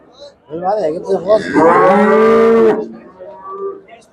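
At a Shahrisabz livestock market, a cow lets out one long, loud, nearby moo that rises and holds before fading, with low grunting before it and soft market noise after.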